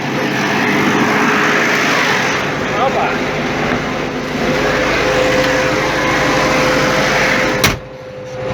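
Hattat A110 tractor engine running steadily and loud throughout while ploughing a field, a continuous droning hum that cuts off abruptly near the end; a brief exclamation is heard.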